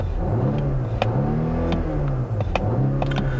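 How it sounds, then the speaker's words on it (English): A Volvo V60 Polestar four-cylinder engine revs in several quick, raspy bursts with a thin, vacuum-like hum, rising and falling in pitch, interrupted by sharp clicks and ticks close by. "The 4-cylinder has a slightly raspy note, but it still kind of just sounds like a vacuum cleaner."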